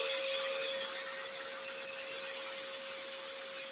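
A small blower runs steadily during woodworking routing on a key rack, giving a constant broadband hiss with a fixed whine held throughout and no talk.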